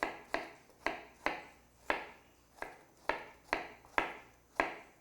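A knife slices vegetables into medium slices on a cutting board, about nine crisp, evenly spaced cuts close by with no talking.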